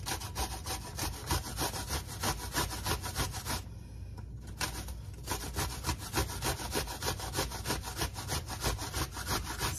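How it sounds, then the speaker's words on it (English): An apple being grated on a grater, a steady rhythmic rasping of quick back-and-forth strokes, close and continuous, with a short pause near the middle before the scraping resumes. "Okay, now we're going to grate 1 apple."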